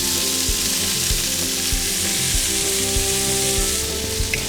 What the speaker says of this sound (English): after you add in your carrots, and you let it fry a little bit until everything is cooked